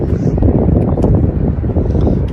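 Steady, loud wind buffets the microphone on a stone pier at Lowestoft during sea fishing, a continuous low rumbling roar with no pauses and no voices.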